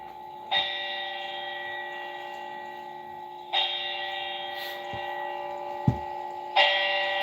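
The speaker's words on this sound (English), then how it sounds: "And then he does the warning bells" A bell-like warning chime sounds three times at steady intervals, each tone ringing out and sustaining, with a few faint clicks in between.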